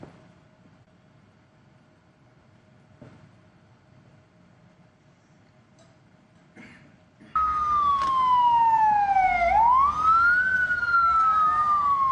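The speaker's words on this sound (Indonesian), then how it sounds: "Serangan rudal Iran ini juga sempat memicu sirine peringatan di wilayah Israel Selatan." During an Iranian missile attack on southern Israel, after a quiet stretch with a faint steady hum, a loud wailing warning siren starts up and sweeps up and down, with other siren tones layered over it.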